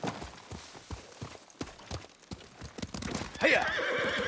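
Horse hooves clip-clop in an irregular run of hard hits, ending in a loud, bright neigh in the Ghost of Tsushima video game, fairly close and with no talk over it.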